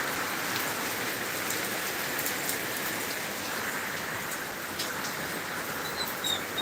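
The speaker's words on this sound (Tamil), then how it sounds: "மழை பெய்யுது மழை." Steady rain falls throughout, a continuous dense hiss of drops on surfaces at moderate, even loudness with no voices.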